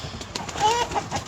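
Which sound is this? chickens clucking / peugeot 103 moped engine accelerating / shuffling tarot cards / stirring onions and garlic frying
chickens clucking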